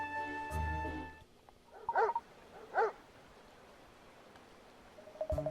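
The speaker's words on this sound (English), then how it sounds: "It's a dog barking, isn't it?" A dog barks twice in Layton's Mystery Journey: Katrielle and the Millionaires' Conspiracy, two short clear yaps about a second apart, with a brief tonal game chime before and another bark-like blip at the end.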